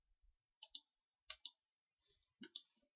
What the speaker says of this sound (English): the excessive mouse clicking